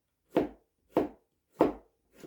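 Vegetables are chopped for a summer salad meant to be preserved for winter, giving four close, crisp knife strokes on a board at an even, unhurried pace, with no talking.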